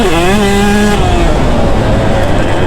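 A KTM 150 SX two-stroke dirt bike screams loud and close while cornering, its high, buzzing engine note dropping in pitch as the rider eases off through the turn.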